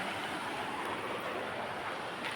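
Steady, continuous rush of river water in Konkan country, a broad even wash of flowing water heard up close and alone with no voices.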